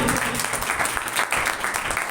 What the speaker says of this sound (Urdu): تالی بجاؤ